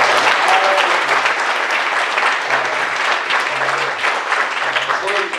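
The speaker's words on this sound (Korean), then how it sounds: "우리 주님께 영광의 박수 드리겠습니다" A church congregation applauding loudly and continuously at a pastors' seminar, dense clapping filling the room throughout.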